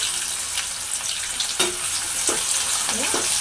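Chopped onions frying in hot oil with black peppercorns for a beef lung bhuna, giving a dense, bright sizzle throughout with a few stirring scrapes and clatters close by.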